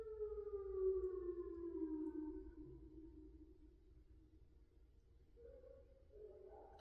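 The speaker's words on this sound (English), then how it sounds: "So we just had the tsunami alarm going off" A loud wailing tsunami warning siren during a test holds a long, slowly falling tone, then rises again near the end, sounding from a distance across open air.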